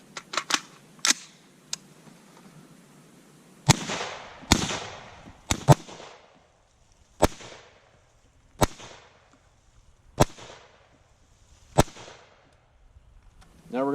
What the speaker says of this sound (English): we're going to put some rounds into it, and then we'll check it out. Let's start with the AR.